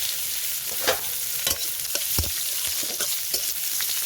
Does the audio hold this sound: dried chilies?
yes